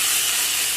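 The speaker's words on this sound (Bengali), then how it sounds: "এখন এর মধ্যে দিয়ে দেবো অল্প একটু জল।" Water poured into a hot pan of cooking drumstick flowers, a loud, steady, bright sizzling hiss that holds evenly throughout, with no voices.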